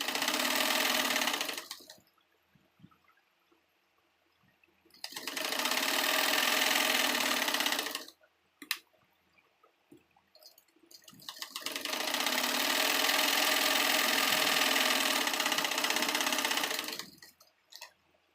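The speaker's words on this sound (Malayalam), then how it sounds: "ഒരറ്റം മുതൽ മറ്റേ അറ്റം വരെ ഇതങ്ങ് സ്റ്റിച്ച് ചെയ്തെടുക്കുക കേട്ടോ." Sewing machine stitching the folded edge of a princess-cut blouse, running in three loud sustained bursts with quiet pauses between them, alone with no talk.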